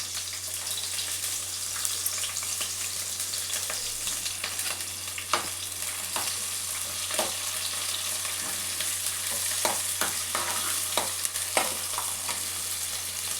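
A medium onion and four chopped green chillies fry in hot oil for a cauliflower-and-egg curry, giving a steady close sizzle. Intermittent spatula scrapes and clicks cut through as the pan is stirred, with no talk.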